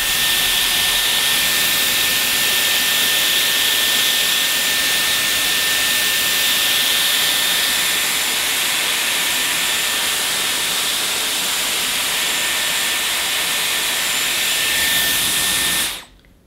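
A Dyson Airwrap hair styler with a curling attachment blows air in a loud, steady, close rushing hiss that holds almost unchanged for about sixteen seconds, then cuts off abruptly at the end.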